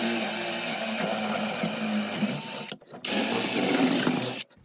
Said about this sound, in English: So the first thing I'm going to do is drill the holes for the carriage bolts